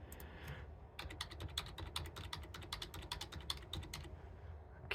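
Rapid typing on a computer keyboard, a dense run of crisp key clicks at an uneven, fast rhythm, close and fairly quiet with no voices.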